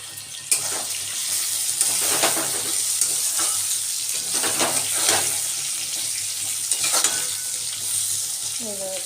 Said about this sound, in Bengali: এই বেগুনগুলোকেও মাছ ভাজার তেল এখন বেশ লাল করে ভেজে নেব